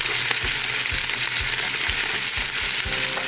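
Tomatoes sizzle in a hot pan, a steady, close frying hiss with faint scattered pops that holds evenly throughout, with no voices.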